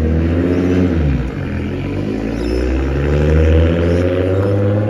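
A Nissan Skyline R32 GT-R drives under load, its engine droning loudly and steadily, dipping briefly and then revving back up, heard from inside the car with no talking.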